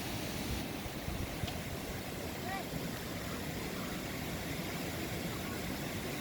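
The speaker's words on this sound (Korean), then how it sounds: "오늘은 제가 장백폭포로 왔습니다." Changbai Waterfall on Baekdu Mountain, heard from its base where hot-spring water collects, gives a steady, close, full-bodied roar of falling water that continues without a break.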